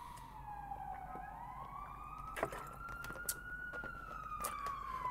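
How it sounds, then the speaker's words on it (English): Police car siren on a highway, its wailing tone rising and falling steadily throughout, moderately distant under a low traffic rumble. "There's some police car in the highway,"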